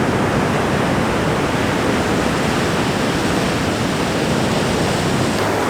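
Ocean waves rolling in over rocks make a loud, continuous roar of broadband surf with no pause, close by and with no voices.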